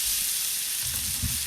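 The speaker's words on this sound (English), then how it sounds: "This is the last time we're going to flip it because this steak looks absolutely amazing." A steak sizzles and fries in a hot pan just after being flipped, a steady loud hiss with a few low bumps from the meat and pan, and no voices.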